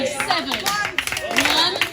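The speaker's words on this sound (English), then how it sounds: "now clap along with me" Audience clapping along at an outdoor summer concert, steady handclaps sounding beneath a voice singing and counting loudly over the top.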